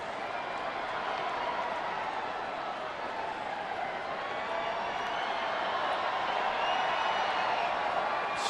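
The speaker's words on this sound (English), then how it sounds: "Stir in the crowd here at Petco Park as the fans exercise the wave." A baseball stadium crowd at Petco Park during the wave, heard as a steady, continuous roar of many voices with scattered cheers and clapping, full and sustained across the whole stretch.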